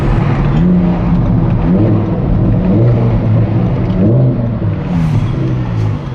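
Audi R8 with a stage 4 tune driving, its loud engine rumbling and revving continuously with rising and falling pitch as the car runs, the tune making the exhaust pop.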